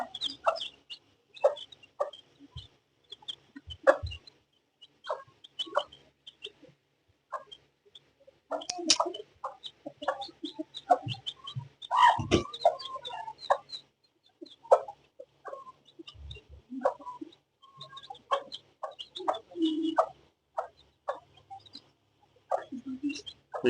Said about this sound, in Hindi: ये मुर्गी निकल आई, ये चूजे निकल आए